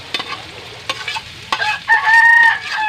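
Onion tossed into a frying pan for a Bisaya-style shrimp dish, a few sharp spatula scrapes and clacks before a burst of sizzling, with a rooster crowing in the background near the end.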